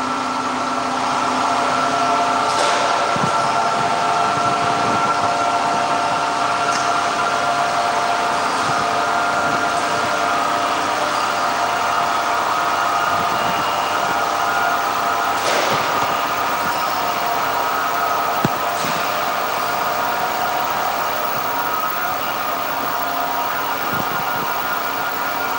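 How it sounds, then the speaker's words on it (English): Alexanderson alternator motor at SAQ Grimeton, a historic longwave radio station, spinning up toward nominal RPM: a steady loud mechanical hum and whine with a sustained tone, constant and without speech. "And now Anders will give extra power to the motor so we can reach the nominal RPM."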